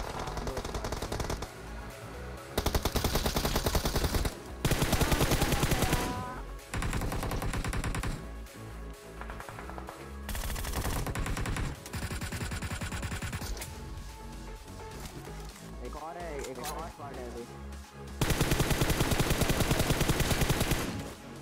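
Sustained automatic gunfire in a battle royale shooter, with long rapid bursts broken by brief pauses, loud and close throughout, occasionally layered with other game effects and no talking.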